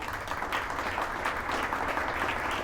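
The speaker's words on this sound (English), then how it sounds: "we have to give a bigger applause" An audience at a business interview event claps in a dense, sustained wash of applause that stays loud and even throughout.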